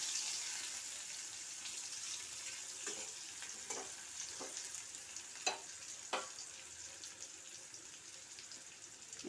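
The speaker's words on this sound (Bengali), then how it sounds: "এরপরে আলু ভাজা করছি" Potato pieces frying in a pan after small tangra fish, a quiet steady sizzle with a few sharp clicks and stirring scrapes scattered through, no voices.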